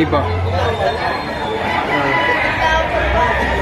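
A rooster at a Philippine market crows faintly amid crowd chatter and someone talking, the call blending into busy background noise.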